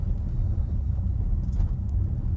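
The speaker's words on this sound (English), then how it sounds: "There goes a plow truck." A snow plow truck passes on a snowy road, a steady low rumble of engine and tires that stays fairly even throughout, heard from inside a moving vehicle.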